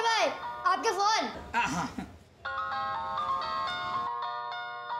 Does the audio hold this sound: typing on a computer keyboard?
no